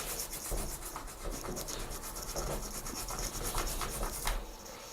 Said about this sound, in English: You do have to scrub a little bit harder than you would with Dettol